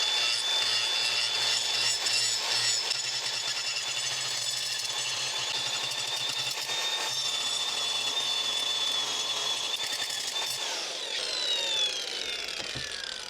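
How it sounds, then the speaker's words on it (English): Diamond blade grinder slowly leveling the grip tape pins on a skateboard pedal, a steady high-pitched whining grind that holds for about ten seconds, then changes pitch and scrapes more unevenly near the end. "We're going to do that with the diamond blade grinder."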